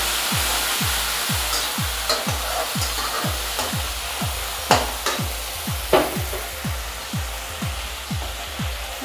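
Chopped tomato being stirred in a cooking pan for a red amaranth greens recipe, with a regular series of scraping utensil strokes, roughly two per second, over a soft sizzle, up close and without speech.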